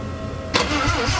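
A Mazda 13B turbo rotary engine cranks briefly and fails to catch, giving a short, close, dull burst of starter and engine noise.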